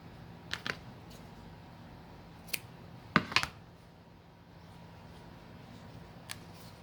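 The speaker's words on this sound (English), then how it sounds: "measure where I need to cut it. And then just chevron that." Scissors cutting a ribbon tail into a chevron, a few short crisp snips spread across a quiet stretch, with a quick double cut near the middle.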